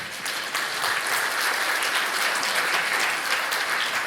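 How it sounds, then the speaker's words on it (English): Sustained audience applause at a luxury real estate event, a dense and steady wash of many hands clapping that holds at an even level throughout without pause. "Please put your hands together for him."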